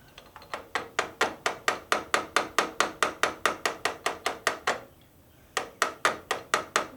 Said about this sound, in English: tap with either screwdriver or a punch or cold chisel, just to make sure that these nuts never fall off